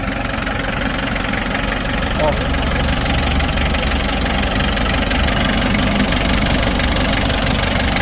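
A motor engine with blowby idles steadily nearby, a continuous low rumble with a faint knocking rhythm throughout.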